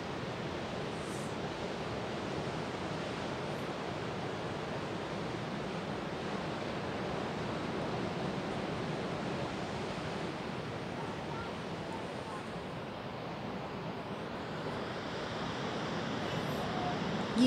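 Ocean waves near the Biarritz lighthouse on the French coast produce a continuous, moderately loud wash of surf noise. Some wind buffets the microphone, and no one speaks.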